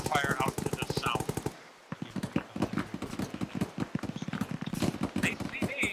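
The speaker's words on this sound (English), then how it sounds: "I'm hearing gunfire out to the south" Rapid machine-gun bursts crackle in the ArmA 3 military shooter, loud and close with sharp regular rhythms, a brief pause, then more sustained automatic fire, with a voice speaking faintly under it.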